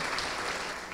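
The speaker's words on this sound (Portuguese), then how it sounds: "vamos aplaudir ao Senhor Jesus por cada vida que está chegando." Brief burst of congregation clapping in a church service, an even wash of hand claps that holds steady and fades slightly at the end.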